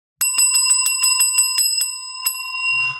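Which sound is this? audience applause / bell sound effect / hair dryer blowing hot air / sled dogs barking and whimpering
bell sound effect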